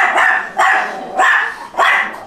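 Small chihuahua-type dogs rescued from a puppy mill bark at an animal shelter: four sharp, high yapping barks in an even rhythm, close and loud.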